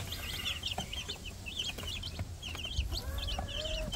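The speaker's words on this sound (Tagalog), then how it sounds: "Sisiw ng Rhode Island natin." Nine-day-old Rhode Island Red chicks cheep and cluck, a steady run of high, quick chirps from several birds at close range over a low background rumble.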